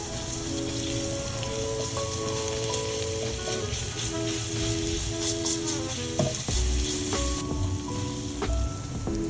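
Grated garlic sizzling in a hot pan for vegan Chinese pancake filling, a continuous close crackle and sizzle with some clatter near the end and no voices.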